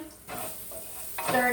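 Onions and pepper sizzle in a frying pan on medium heat while being stirred, a steady close hiss with scraping swells and a brief louder burst near the end; no one talks.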